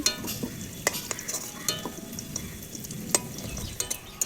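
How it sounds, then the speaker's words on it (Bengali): Whole spices and bay leaves are tempered in hot oil left in a pan after frying potatoes. A steady sizzle plays under occasional sharp clinks of a spoon stirring against the pan, close up and with no talk. "আলু ভেজে নামিয়েছি ওই তেলটাতেই আমি ফোড়ন দিয়ে দিচ্ছি"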